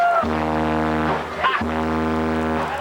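A deep, droning low tone from a car stereo bass system blasts continuously with a strong harmonic stack, breaking off briefly midway before booming back in, very loud and close.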